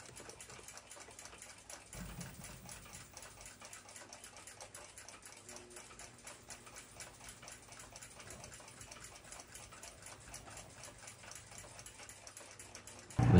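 A lathe cuts a clock movement hull held in a six-jaw chuck during a ship's clock restoration, giving a steady, fine whirring hum with a faint rapid ticking texture that runs evenly throughout, with a brief louder thump at the very end.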